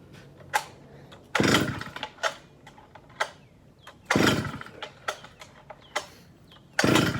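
A chainsaw being started with repeated pull-cord yanks, several short rasping pulls and a few longer loud bursts, close by and not catching.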